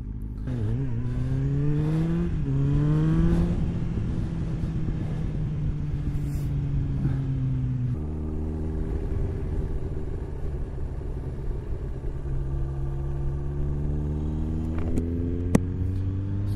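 A rebuilt Kawasaki Ninja ZX9r sport motorcycle engine drones steadily while riding, rising in pitch through several revs and gear changes, close and loud with a faint mechanical rattle and no talking.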